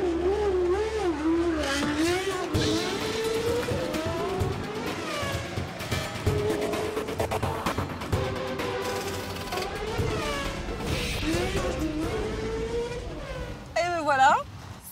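A car rolling slowly below 15 km/h alongside a racing driver, with a steady engine hum under ongoing talk and a brief louder rise near the end.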